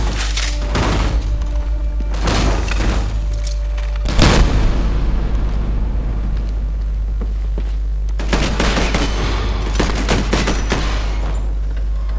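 Gunfire from a weapon in the video game Medal of Honor Warfighter, with several loud bursts of shots and booms spread across the stretch, interspersed with quieter in-game ambience.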